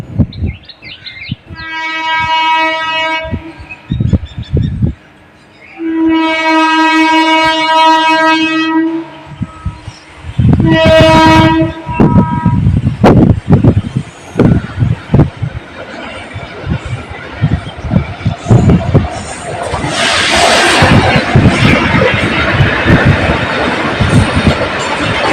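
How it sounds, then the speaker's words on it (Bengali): A freight train pulls out of a station and sounds several long, loud horn blasts. Heavy rumbling and wheel clatter follow as it gathers speed close by. "এইবারে ট্রেন ছাড়লো স্টেশন থেকে।"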